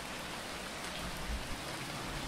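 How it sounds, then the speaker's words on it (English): Steady, dense rain ambience from the video game Phoning Home, a continuous close wash of patter with no voices. "The rain sounds super nice."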